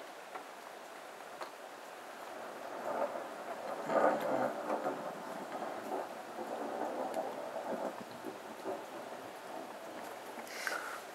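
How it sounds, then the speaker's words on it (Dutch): Thunder rumbles in long low rolls through a rainstorm on 5 July 2012, with rain falling steadily throughout and the thunder swelling near the middle, heard from a distance. "Nu de donder."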